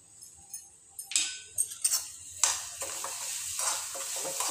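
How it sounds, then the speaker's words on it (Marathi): Jaggery with cardamom powder is stirred in a flat pan without oil, giving close, irregular scraping and clinking strokes that come in uneven bursts, with no voices. "हे आपण हे चांगलं गूळ वितळसर हलवणार आहोत."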